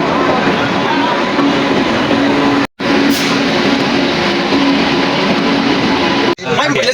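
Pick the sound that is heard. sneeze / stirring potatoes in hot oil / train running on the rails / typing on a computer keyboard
train running on the rails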